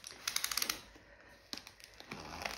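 A parcel being opened up close, with a quick run of crisp, crackling clicks and rustles in short bursts and brief pauses between them. There is no talk.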